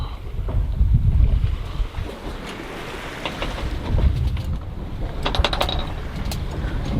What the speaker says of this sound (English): Just this gentle wind on the back quarter.